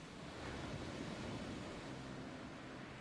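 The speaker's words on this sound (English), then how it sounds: "replaced by the simple sound of the sea" Sea waves wash against a small island shore after a storm, a soft, steady surf roar heard alone at low level.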